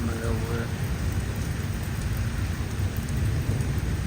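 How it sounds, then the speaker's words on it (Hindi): Heavy rain pours steadily in a nighttime thunderstorm in Islamabad, with low rolling thunder rumbling beneath the dense downpour throughout. "इस्लामाबाद में शदीद तूफ़ान आया हुआ है"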